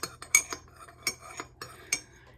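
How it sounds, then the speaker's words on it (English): Spoon stirring syrup into a coffee drink, metal tapping and clinking against the cup in a handful of sharp, bright strikes spaced irregularly, close and fairly quiet with short scraping swirls between them. "now we stir it to make sure that the syrup on the bottom is fully incorporated into the coffee beverage"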